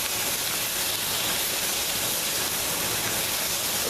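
Zucchini searing in a wok over a very high flame, a steady loud hiss with broad sizzle throughout and no break or talk.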